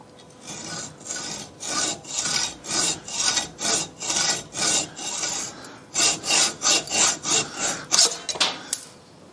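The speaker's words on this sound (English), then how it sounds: "So I'm going to rough it out with the old hacksaw" An old hacksaw roughly cutting a metal part for a Lynx15 build, a steady rasping back-and-forth of about sixteen even strokes, close and alone, quickening slightly toward the end.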